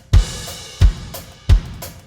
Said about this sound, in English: The first one being just the kick drum and the hi-hat,